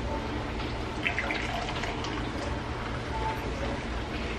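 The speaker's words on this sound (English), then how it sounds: "My water is heated up. Here's my tea and aloe, and I just need to add water to it." Hot water pours into a cup of tea with aloe, a steady close trickling stream that runs quietly and evenly throughout, with no talking.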